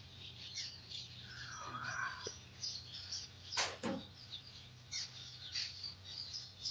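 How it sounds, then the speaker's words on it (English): Small birds chirp and tweet outdoors during a fishing outing, scattered bright calls coming in short bursts, with a low steady hum and a couple of brief clunks in between. "Oh, these birds out here."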